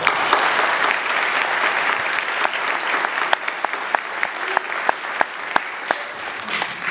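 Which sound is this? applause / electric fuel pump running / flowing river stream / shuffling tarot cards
applause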